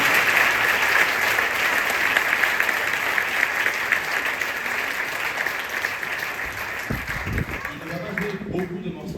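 Concert audience applauding pianist Patrice Nansan at a gospel concert in Cayenne, a dense steady wash of clapping that fades toward the end as a voice begins speaking.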